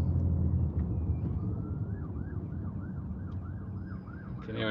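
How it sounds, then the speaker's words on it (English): An ambulance siren warbles faintly in the distance over the steady rumble of a car driving on the M27 motorway, with its repeating wail rising midway through. "Can hear an ambulance or something coming from somewhere."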